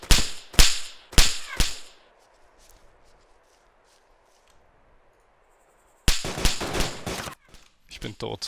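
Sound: gunshots from the video game DayZ

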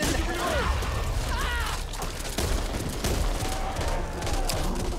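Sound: gunfire in video game Back 4 Blood

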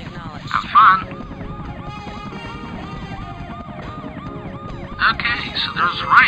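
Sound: ambulance siren in SimCopter video game

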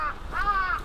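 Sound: crows cawing in Japan

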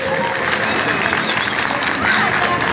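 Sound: crowd applause at a bull-riding festival

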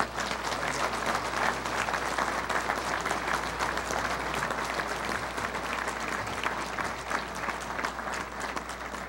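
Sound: banquet audience applauding

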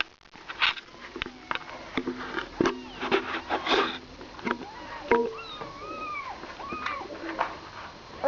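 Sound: cat crying

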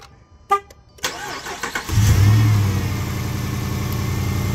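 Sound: Jeep Commander Hemi engine starting and running

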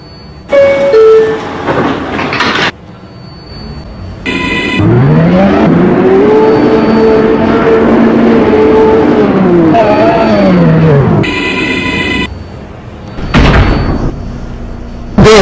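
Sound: subway train doors closing and departing

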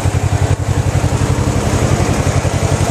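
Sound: 12 horsepower engine running on wood gasifier

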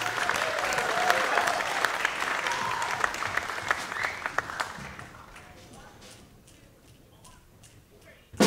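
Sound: audience applause welcoming a jazz band

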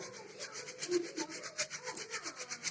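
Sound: sifting rice through a sieve

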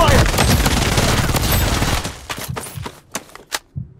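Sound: gunfire in the video game Blood Strike

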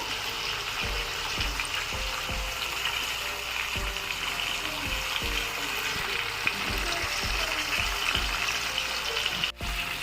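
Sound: fish pieces frying in oil

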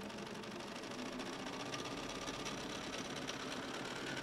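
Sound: sewing machine stitching over fabric for a quilt

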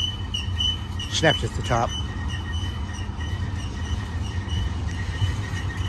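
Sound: BNSF stack domestic intermodal freight train passing

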